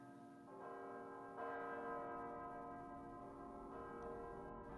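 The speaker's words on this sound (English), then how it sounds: "The bell has been tolling all day." A church bell tolls in an anime scene from Death Note, a steady resonant ring that swells twice as new strikes land, sustained and fairly quiet with no voices.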